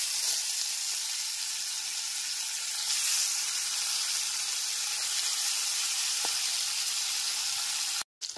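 Pabda fish frying in hot salted oil in a pan, giving a bright, continuous hiss that holds steady and close for several seconds before cutting off abruptly at the end.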